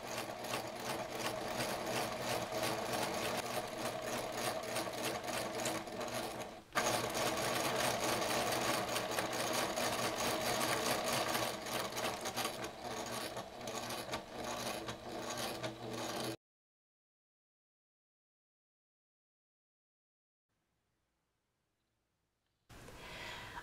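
A sewing machine stitches steadily through a vinyl travel bag, a dense continuous whirring hum that runs for about sixteen seconds with one brief hitch, then stops for several seconds of silence before starting up again.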